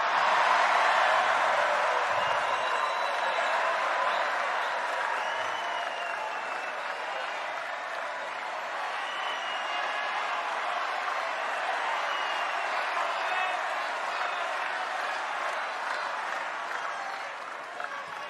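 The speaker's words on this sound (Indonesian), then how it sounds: "kita beri tepuk tangan yang paling meriah untuk Bapak Prabowo Subianto" Sustained applause from an audience at a political campaign event for Prabowo Subianto, a dense steady clapping with crowd murmur that holds for the whole stretch and tapers at the end.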